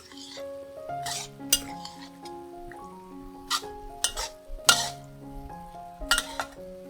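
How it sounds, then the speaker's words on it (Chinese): A spatula clinks and scrapes against a wok as a cornstarch-thickened braising sauce for vegetarian braised pork rice is stirred, with sharp metallic knocks scattered over a faint sizzle. "炒至卤汁变得浓稠。"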